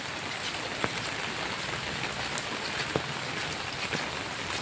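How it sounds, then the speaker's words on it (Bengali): Rain falls steadily on a wet day, a constant close hiss of drops on surfaces with a few louder individual drips. No voices are heard. "একদম বৃষ্টি ভেজা দিন, চারপাশ ভেজা ভেজা।"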